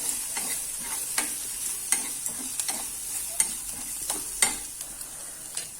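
Potato bhaji filling with turmeric and lime juice sautéed in a pan: steady close sizzle under repeated scraping stirs of a spatula, each stroke a short clatter at an irregular rhythm, with no voices.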